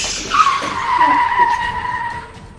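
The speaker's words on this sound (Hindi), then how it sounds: "एक गाड़ी आती है और गाड़ी ने बहुत जोर से ब्रेक मारा" A car braking very hard and skidding to a stop in a Hindi horror-comedy story: a loud, sustained tire screech slides gradually downward in pitch over a couple of seconds, alone with no talk over it.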